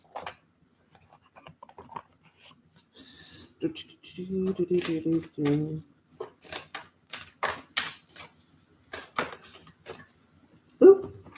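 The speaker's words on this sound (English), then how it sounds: "Let me shuffle these back in the deck." Cards riffle and shuffle in short papery bursts, broken by quiet speech before and after.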